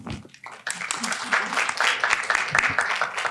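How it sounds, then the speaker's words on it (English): Audience applause for a conference panel, a dense wash of many hands clapping that swells after a brief lull and holds steady, with a voice or two mixed in. "Please help me clap for our incredible"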